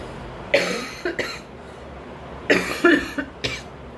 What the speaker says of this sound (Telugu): ఇంకా కాఫ్ పోలేదు